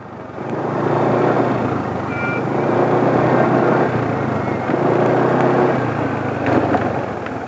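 A rough-running diesel engine idles with its RPM slow to drop, giving a steady, coarse, close-up rumble with no break for the whole stretch.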